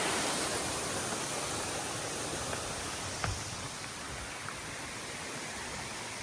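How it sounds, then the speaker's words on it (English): A waterfall along a long-distance hiking trail gives a steady, broad, even roar of rushing water, constant throughout with no voices. "It's a waterfall."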